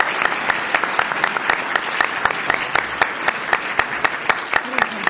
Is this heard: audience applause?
yes